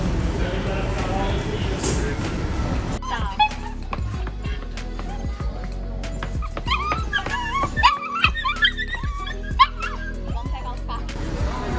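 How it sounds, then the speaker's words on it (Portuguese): Dogs bark and whimper in short yelps and whines, scattered through the stretch over a busy background hum, with people talking nearby. "Aí você tá recolhendo os nossos cachorros ali, ó."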